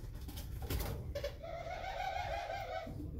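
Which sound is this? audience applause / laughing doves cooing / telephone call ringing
laughing doves cooing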